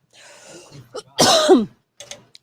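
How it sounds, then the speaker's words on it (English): A single rough cough bursts out, with softer throat noises and breathing before it and a few faint sounds trailing after. "Still coughing."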